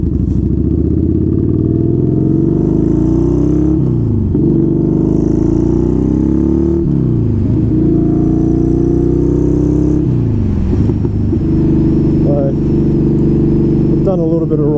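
A motorcycle ridden on open road, its engine droning loud and steady, rising through gears with brief dips at each shift, while someone speaks over it.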